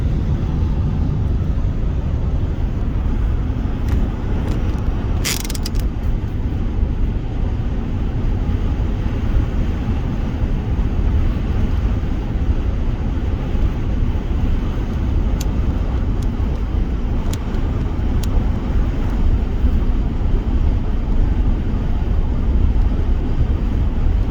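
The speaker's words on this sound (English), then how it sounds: "the wind's still blowing" Blustery morning wind on a chilly road trip from Colorado to South Dakota: a loud, constant low roar and rumble that never lets up, with a few faint ticks over it.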